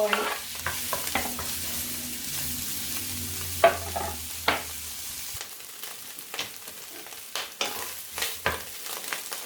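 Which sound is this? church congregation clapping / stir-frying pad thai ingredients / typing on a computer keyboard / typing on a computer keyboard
stir-frying pad thai ingredients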